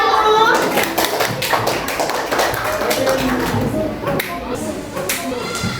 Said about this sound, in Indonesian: Beri tepuk tangan untuk kinestetik 1.